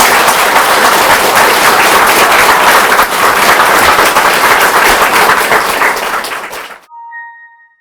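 Loud, sustained audience applause and clapping for a teacher's birthday, dense and continuous for about seven seconds before stopping abruptly into near silence.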